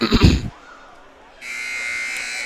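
A basketball game buzzer at a Pine City vs Rush City boys high school game sounds a steady, sustained electronic tone after a burst of crowd noise and a voice, ringing alone for about a second.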